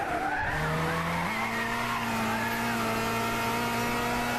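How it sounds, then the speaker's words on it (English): A car drifts with sustained tire squeal through a corner in the Gran Turismo 6 racing game, the engine droning steadily under a rising, continuous screech that runs the whole stretch with no talk. "drifting around the outside of the corkscrew"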